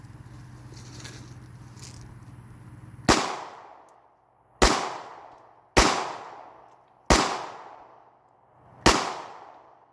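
A Smith & Wesson SD9 VE 9mm pistol fires five loud single shots at a slow, fairly even pace, each followed by a short ringing decay, after a quiet stretch of low background hum.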